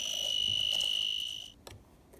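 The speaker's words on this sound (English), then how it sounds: "That alarm was indicating that the battery voltage had dropped, and under load it was dropping below the 17 volts." A low-voltage alarm on a modified DM18RL DeWalt-to-Ryobi battery adapter gives one sustained, piercing electronic beep lasting about a second and a half. A few sharp clicks follow in an otherwise quiet room.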